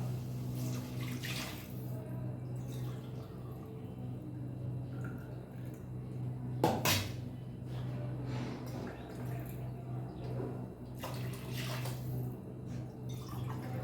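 Water is poured into a pressure cooker while making white biryani in a home kitchen, soft faint splashing and trickling with a few louder pours.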